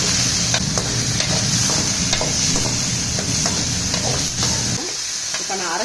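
Two brinjals and chopped tomatoes frying in a pan give a loud, continuous sizzle, with repeated stirring scrapes and clinks over the hiss that fade toward the end.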